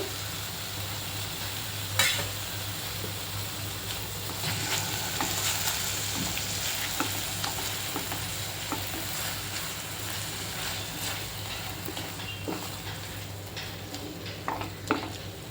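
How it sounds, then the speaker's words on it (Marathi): Okra masala with yogurt stirred and fried in a pan for a dhaba-style bhendi dish, a steady low sizzle broken by soft scraping stirs and a few sharper utensil taps, with no talking. "चांगलं परतून एकजीव करून घेते."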